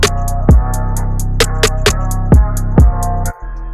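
Hi-hats offset against a kick drum in FL Studio give a quick steady pattern of crisp hat ticks interleaved with several deep kick thumps, all over a held bass note that cuts off near the end.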